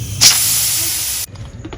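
Steam bursts out loudly as the lid comes off a pressure cooker of beef and dal steamed for 25 minutes, a sharp broadband hiss sustained for about a second, then cutting off abruptly.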